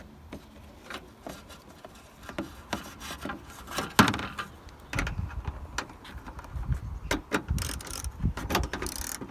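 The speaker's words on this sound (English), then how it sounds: "So 10mm socket on a long extension bar." A 10mm socket on a long extension bar undoes a front bumper bolt on a Land Rover Freelander 2, giving quiet, close ratcheting clicks and metallic knocks in irregular bursts, alone without talk.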